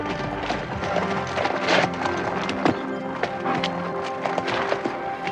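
Horse hooves thud and clop in an irregular rhythm during riding training, fairly close, mixed with other low background noise.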